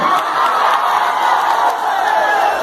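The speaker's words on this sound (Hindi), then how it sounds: "मैं रिक्वेस्ट करूंगी तुला बाबू के लिए जोरदार ताली" A dense, loud wash of audience applause and cheering at a live stage performance, with continuous clapping and scattered shouts and whoops filling the whole stretch.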